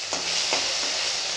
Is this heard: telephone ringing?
no